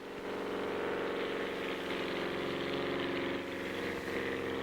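Beagle Pup single-engine low-wing light aircraft performing a spin at an air show, its engine a steady droning whir held at constant loudness throughout, slightly distant with no voices.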